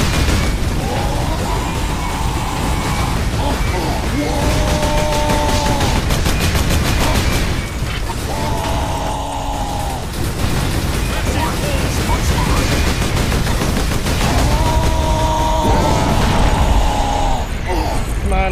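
Gunfire in the Space Marine video game, with continuous automatic weapon bursts, booms and mechanical clatter filling the whole stretch alongside a game soundtrack and spoken voices.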